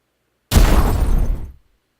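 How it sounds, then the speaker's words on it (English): A single loud explosion effect from a video game bursts in abruptly with a dense, full-range roar, then fades out over about a second, with no talk over it. "There's a lot of explosions."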